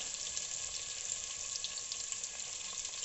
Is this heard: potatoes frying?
yes